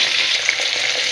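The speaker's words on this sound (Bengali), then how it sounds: "আলুগুলো একটু ভাজবো কিছুক্ষণ।" Chunks of cut potato fry in hot oil in a pan, giving a steady, close, continuous sizzle that holds evenly with no talking.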